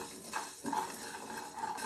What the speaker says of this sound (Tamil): அடுத்து 1 கப் அளவு ஜவ்வரிசி சேர்த்திக்கலாம்.